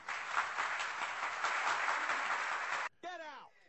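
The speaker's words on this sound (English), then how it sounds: "Let's give him a roaring round of applause, Robin." A studio audience breaks into dense, steady applause for nearly three seconds during a sports talk radio show about NFL coaching changes, cutting off abruptly before a short burst of laughter and voices follows.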